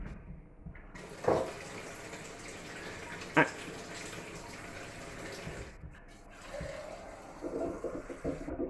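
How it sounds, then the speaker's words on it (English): Cold water running and pouring into a stock pot for chicken stock, a steady splashing stream with a couple of sharp clunks of metal. "So just need to chuck some cold water in there."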